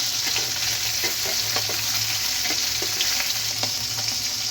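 Bata fish, salted and coated in turmeric, frying in hot oil: a loud, steady sizzle with scattered spattering pops throughout, and no voices.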